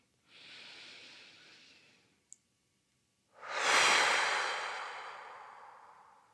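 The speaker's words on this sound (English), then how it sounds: "breathe in through your nose, open your lips, and blow that breath away" A slow, soft inhale through the nose, a short pause with a small click, then a longer, louder breath blown out through open lips that fades gradually, close and alone during a yoga session.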